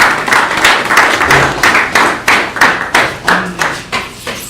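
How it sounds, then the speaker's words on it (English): A small graduation audience gives a round of applause, heard as a series of loud, close, distinct claps in an uneven rhythm, with some hollow thuds among them. "Round of applause once again."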